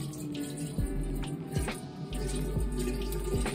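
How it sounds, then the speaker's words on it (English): Tap water runs into a kettle beside a kitchen sink, a steady close splashing and trickling stream with a few louder drips, continuous for a few seconds with no talking. "I'm just gonna put water in here."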